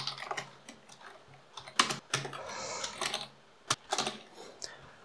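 JavaScript code being typed on a computer keyboard, with close, crisp key clicks in irregular bursts and pauses and a few louder strikes, while someone speaks quietly now and then.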